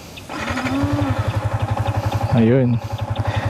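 A 2019 Yamaha Sniper motorcycle engine idling close by with a steady low putter, briefly revving up once before settling back to idle.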